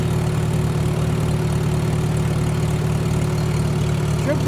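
A Farmall H tractor engine idles steadily with a low, even chugging rumble, close and continuous with no talk.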